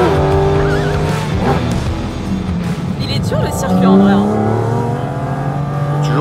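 A Porsche GT4 RS roars around a race track, its engine rising and falling through gear changes with some tire squeal, loud and close from inside the cabin, while people talk over it.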